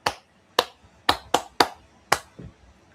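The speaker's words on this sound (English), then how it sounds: "let me clap for you" Six sharp, separate hand claps at an uneven pace, each a crisp smack followed by a brief quiet gap, close and fairly loud.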